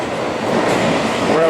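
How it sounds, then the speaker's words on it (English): A Budapest metro train pulls into a station with a steady, loud rolling rumble and rail noise, and a faint wheel squeal near the end. "I literally just turned the camera off and here comes a train."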